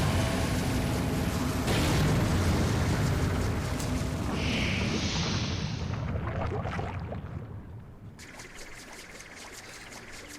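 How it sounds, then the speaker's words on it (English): Cannon fire in the Final Fantasy XIV: Heavensward Void Ark battle, a dense, loud rumbling barrage of booms with game effects that thins out toward the end, with no talk over it. "Uh-oh, that's a cannon."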